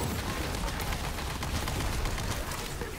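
The Mag Dump spell in Tiny Tina's Wonderlands fires a rapid, dense barrage of gunshots, a continuous crackling fusillade that stays fairly even and moderately loud throughout, with no voices.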